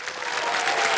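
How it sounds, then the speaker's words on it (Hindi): Studio audience applause on a televised quiz show set, a steady, dense wall of clapping close and loud that holds at full strength throughout with no voices over it. "एक बार फिर तालियां बज जाएं"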